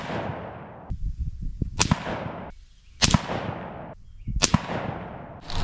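A Savage Axis bolt-action rifle in 6.5 Creedmoor fires at an outdoor range: three loud, sharp cracks roughly a second apart, each trailing off in a rolling echo, with quiet handling noise in between.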